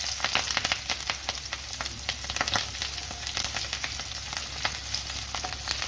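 Onion paste sizzles in hot oil with whole cumin seeds, a dense, close frying crackle with rapid irregular pops throughout over a constant low background hum.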